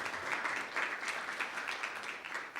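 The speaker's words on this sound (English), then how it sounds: "Round of applause for Professor Coleman." Audience applause greets a professor at a public university debate, a continuous mid-level rush of many hands clapping evenly that fades slightly at the very end.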